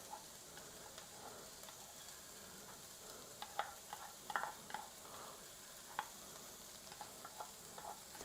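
Five garlic cloves sautéing in a pan, a faint, steady sizzle with scattered light clicks and stirring taps.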